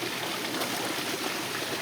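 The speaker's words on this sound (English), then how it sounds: "that's really the mist system that's where the water is coming from" A garden mist system sends water trickling and hissing in a steady, broadband wash with no breaks or voices, in a botanical exhibit setting.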